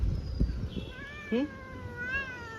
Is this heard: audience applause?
no